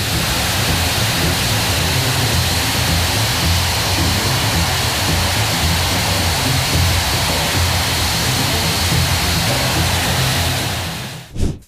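A firefighting unit powered by two aviation turbines producing 12,000 horsepower blasts out up to 8,000 liters of water per minute, a dense, continuous roaring rush that stays loud and steady before cutting off abruptly.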